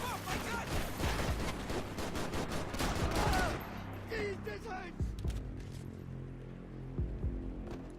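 Max Payne 3 gunfire crackles in rapid bursts of overlapping shots, dense and sustained for a few seconds, then gives way to scattered single shots and game effects at a lower level.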